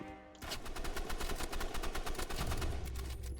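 Rapid shotgun and gunfire bursts from the video game Rivals crackle in a dense, fast volley after a brief quieter start, continuous and moderately loud with no talk.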